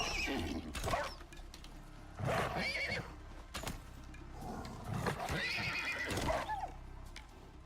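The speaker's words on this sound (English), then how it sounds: "No! Horsey!" A horse in the survival video game Icarus neighs and whinnies several times over a few seconds, loud and close, with hoof clatter mixed in and a voice briefly crying out.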